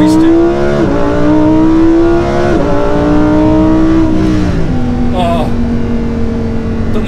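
A Lamborghini Huracan EVO engine revs and accelerates through several gear changes, each rising pull dropping sharply at the shift, loud and close from inside the car.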